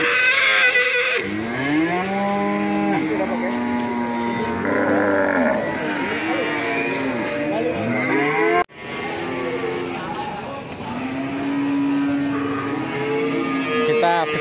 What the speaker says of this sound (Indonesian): ini ada sapi betina Doro dan Bunting